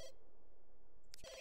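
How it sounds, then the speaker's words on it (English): In The Sims 2 video game, a telephone gives a brief electronic ring at the start and again near the end, with a quiet pause between. "Come answer the phone, Remington."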